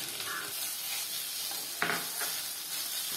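Grated beetroot and coconut sautéed in a pan for burfi, giving a continuous hissing sizzle with a sharper stirring scrape near the middle, close by and with no voices.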